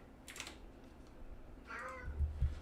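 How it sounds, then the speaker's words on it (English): A cat gives a short, faint meow indoors, close by, against quiet room noise and a couple of light knocks. "How come there's a cat here?"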